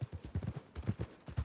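Hooves clip-clop rapidly and steadily as a horse moves along in the video game Red Dead Redemption 2, heard close up and alone, without talk.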